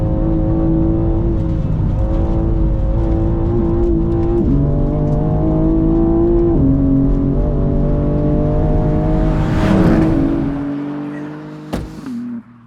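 A 2023 BMW M4 CSL engine revs hard through a track lap, loud and close, climbing in pitch through successive gear shifts before easing off near the end.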